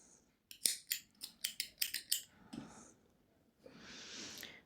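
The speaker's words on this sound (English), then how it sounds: "And then I can cut my thread a little bit longer." Scissors snip crochet thread in a quick run of about eight crisp, evenly spaced close-up cuts, followed by soft rustling of the thread and work, quiet with no talk.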